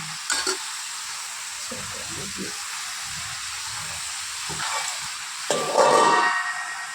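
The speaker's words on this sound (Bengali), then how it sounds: "এবার আলুগুলো ভেজে নি এই তেলে" Potatoes frying in hot oil give a steady, fairly quiet sizzling hiss, with occasional soft stirring knocks and a brief louder crackling burst near the end.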